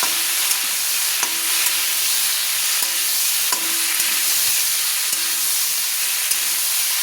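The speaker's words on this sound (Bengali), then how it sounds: "দিয়ে দিলাম আমি হাফ চামচ লবণ, দিয়ে ভালো করে আমি নেড়ে নিলাম।" Cauliflower and chicken seasoned with salt and turmeric stirred in a pan, a steady sizzling hiss with soft scraping strokes of the spoon recurring about every second, close by and without talk.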